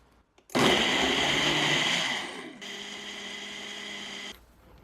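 A kitchen blender whirs loudly as it purées steamed tomatoes, steamed carrots and frozen blueberries with lemon juice and a pinch of salt, running strong for about two seconds before dropping to a steadier, lighter whine and stopping.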